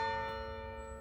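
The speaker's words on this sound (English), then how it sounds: "It's the bells." Church bells sound in a steady, sustained ringing tone at a distance, outdoors at a country estate, a continuous chime without voices.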